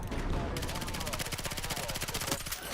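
Rapid automatic gunfire in the video game Battlefield 6, a loud, close stream of evenly spaced shots rattling almost without pause, with a heavier blast at the start.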